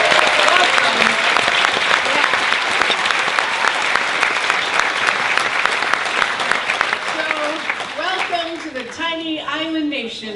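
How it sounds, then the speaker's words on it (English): A gala crowd at an arts center's 50th anniversary gives a big round of applause for interns and volunteers, loud dense clapping throughout, with a voice speaking over the fading applause near the end. "let's a big round of applause for our interns and volunteers"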